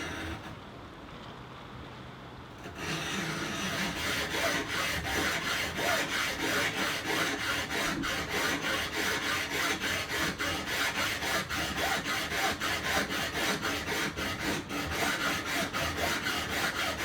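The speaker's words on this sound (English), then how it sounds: "that'll help hold it still as I saw it down" A hand saw cutting a wooden boat batten clamped in vice grips: after a quieter start, a steady, continuous rasping stroke rhythm runs loud and close until the end.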